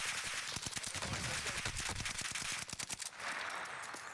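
Rapid automatic gunfire crackles in a Warzone match, dense bursts of shots with an assault rifle setting the pace, fairly distant and steady before tapering, while players talk over it.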